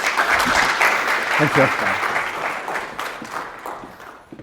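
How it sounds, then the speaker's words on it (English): A lecture-hall audience applauds to welcome a speaker, dense sustained clapping filling the room for several seconds and fading out, with a brief spoken thanks in the middle. "please give a hand of applause"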